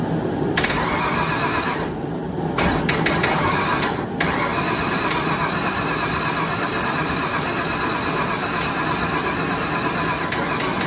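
Ford Ranger swapped with a 5.0 V8 engine cranking and catching, a loud mechanical churn with brief stutters before settling into a steady, close running drone.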